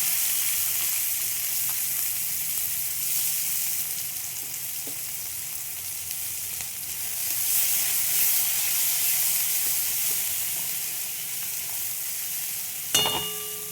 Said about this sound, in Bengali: এবার দিয়ে দেবো পেঁয়াজ, একটা বড় পেঁয়াজ কেটেছি, সেই পেঁয়াজটা।